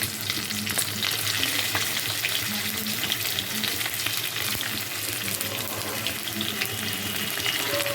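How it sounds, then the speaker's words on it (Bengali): Eggplant slices fry in the oil left over from frying fish, a dense, continuous close-up sizzle and crackle that holds steady throughout. "মাছ ভাজার তেলেই আমি বেগুনগুলো ভেজে তুলে নেব"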